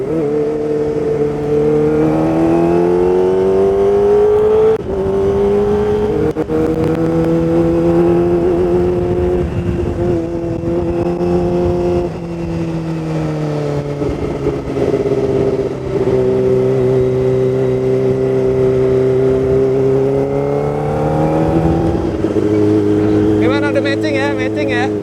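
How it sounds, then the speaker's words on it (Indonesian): A modified Kawasaki ZX25R motorcycle roars steadily through its exhaust on a test ride, a loud, sustained engine drone with the pitch rising and falling as it accelerates and eases off, close by and continuous. "ngelihat motor ini menggelinding di aspal sekaligus ngedengerin suara raungan knalpotnya"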